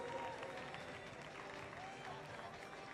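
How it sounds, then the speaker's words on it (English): Crowd applause for Class 4 men's indoor rowing medalists at the 2019 Department of Defense Warrior Games medal ceremony, a steady, even wash of clapping lasting throughout with murmuring voices mixed in. "Let's give them a round of applause."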